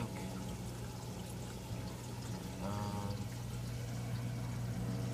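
Water flows steadily through the mechanical filter sponge in an aquarium sump, a soft, continuous pouring and trickling under a low pump hum, faint and even with no voices.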